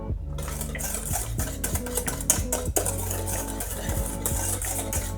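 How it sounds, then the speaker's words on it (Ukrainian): Eggs, sugar and vanilla sugar stirred together in a saucepan for a custard cream, a steady run of scraping and clinking strokes against the pan, close and continuous, with soft background music. "Для крему у сотейнику з'єднуємо яйця, а також цукор і ванільний цукор. Перемішуємо, щоб все з'єдналося."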